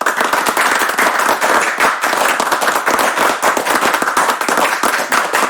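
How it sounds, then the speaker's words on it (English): Loud, dense clapping from a group of people applauding a development team, continuous and close for several seconds with no talk. "big round of applause to the development team"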